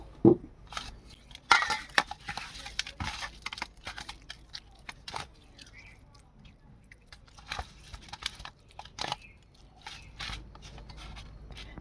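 Snakehead fish pieces rubbed by hand with turmeric, chili powder and salt, giving soft irregular squishing and scraping taps close up, with a few sharper knocks against the bowl.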